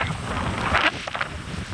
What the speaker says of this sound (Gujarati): અવાજ મારા ખ્યાલ પ્રમાણે નહીં આવતો કેમ કે પવન બહુ જ આવે છે